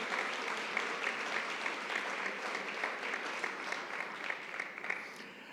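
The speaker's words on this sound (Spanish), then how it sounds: "le damos un fuerte aplauso y muchísimas gracias por su colaboración" Moderately quiet, steady clapping from an audience at a town-hall sports recognition ceremony in Onda, a continuous crowd of hands with individual claps poking through, tapering slightly toward the end.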